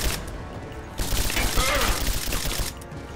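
Gunfire from several directions in the video game Rise of the Tomb Raider, a dense, sustained volley of shots and impacts with a busy, loud game soundscape and no clear pauses.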